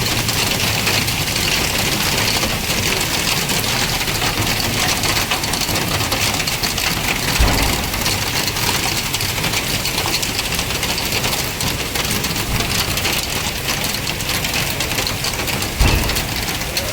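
Hail falling in Qatar: a dense, steady roar of ice pellets pelting surfaces, loud and continuous throughout, with a couple of heavier thuds.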